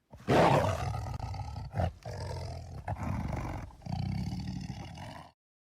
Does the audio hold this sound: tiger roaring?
yes